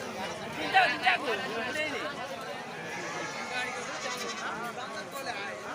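Sheep and goats bleat at a busy weekly livestock market in Jammalamadugu, a few close calls standing out over a crowd of people talking and moving around.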